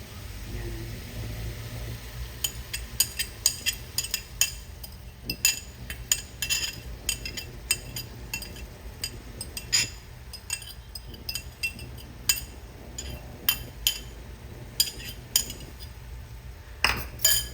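Sautéed bitter gourd with egg being stirred in a pan, a utensil clinking and scraping against the metal in irregular close taps over a low steady background hum, with no talking.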